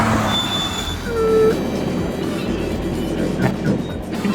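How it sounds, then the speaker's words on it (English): A 2012 Smart Fortwo with front rotors and rear drum brakes makes a hard emergency stop, heard as a steady low road rumble with a brief squeal partway through, and no talking. "That was good emergency braking."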